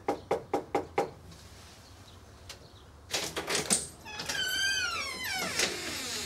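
A reporter and producer knock on a man's front door during a consumer investigation into free trial scams: five quick, firm raps up close, followed by a pause, shuffling noise, then a bright warbling chirp.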